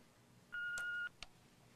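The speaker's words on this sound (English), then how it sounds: "Please leave a message after the beep." An answering machine gives a single steady electronic beep of about half a second, faint and close, followed by a couple of brief clicks as the line opens.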